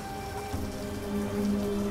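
Steady rain falls in the Lost Horizon adventure game, a constant close patter on surfaces with no voices and a slight swell toward the end.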